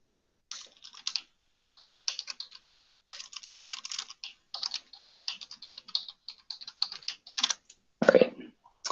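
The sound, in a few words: typing a password on a computer keyboard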